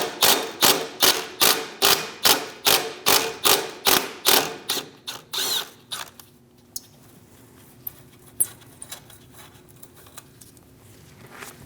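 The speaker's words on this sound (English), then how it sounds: "Using a 10mm socket, remove the bolt." Ratchet with a 10mm socket turning a brake line bracket bolt on a 2001-2006 Chevrolet Silverado front suspension, a rapid series of about a dozen loud clicking strokes that slow and stop, followed by a few faint metallic taps.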